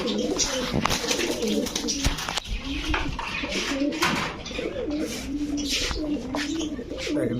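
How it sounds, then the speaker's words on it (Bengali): Caged maxi racer pigeons cooing steadily, a continuous layered burble of close coos from several birds, broken by a few sharp clattering taps and wing sounds. "দেখেন কবুতরগুলো খুবই অ্যাক্টিভ"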